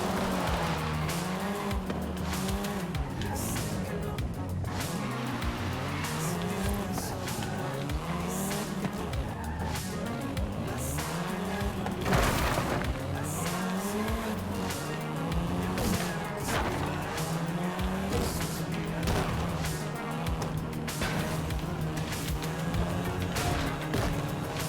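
A Volkswagen Golf R in Forza Horizon 5 revs hard and continuously, its engine note climbing and dropping with gear changes while tires squeal and skid through corners, loud and close throughout.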